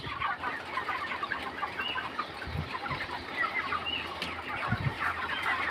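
Many broiler chickens on a farm cluck and chatter at once, a dense, continuous flock murmur with occasional louder calls, moderately close.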